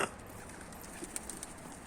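A pigeon coos softly in the distance, a few faint low calls over quiet background hiss with light chirps higher up.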